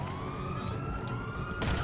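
A police siren wails steadily and loudly in Grand Theft Auto V during a five-star wanted-level chase, one continuous rising tone with traffic rumbling beneath it.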